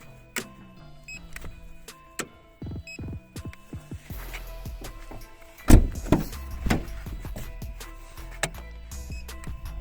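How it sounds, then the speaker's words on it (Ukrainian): Doors of a 2007 Opel Astra H with a 1.6 petrol engine are opened and shut several times, giving sharp latch clicks and one heavy slam amid light mechanical clatter. "Покажу, скільки б'ються двері."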